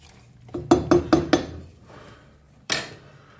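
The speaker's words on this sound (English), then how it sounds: "Just going to give it a little stir around." A spoon clanks against a metal pot while scouse stew is stirred, four quick rhythmic knocks followed by a pause and one final scrape, close and clear with no talking.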